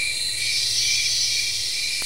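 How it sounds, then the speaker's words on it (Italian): Cicadas chirp in a steady, dense, high-pitched drone played as a nature sound for tinnitus testing, continuous and loud throughout with no talk, ending with a faint brief click. "Ancora cicale"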